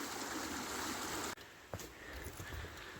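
Creek water flowing steadily through a fall woodland, a continuous broadband rush that dips briefly partway through, with faint footsteps or small knocks over it.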